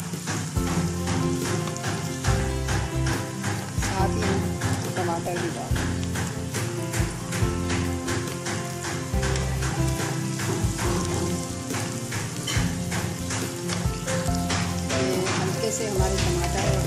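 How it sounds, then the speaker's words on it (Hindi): Green chillies and tomatoes fry in a pan for an okra (bhindi) dish, giving a loud, continuous sizzling crackle close to the pan, with a person talking over it. "ये एक मिनट फ्राई करने के बाद हम हरी मिर्च डाल देंगे, इसको हल्का सा फ्राई कर देंगे।"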